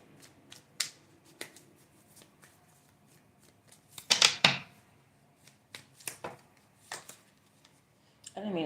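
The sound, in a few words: shuffling tarot cards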